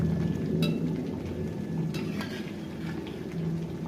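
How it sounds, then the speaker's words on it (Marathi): Fried mutton pieces go into a village-style mutton gravy and are stirred through the spices, a soft bubbling sizzle under repeated spoon scrapes and light metallic clinks. "ग्रेव्हीमध्ये आपण टाकूयात मटणाचे पीस"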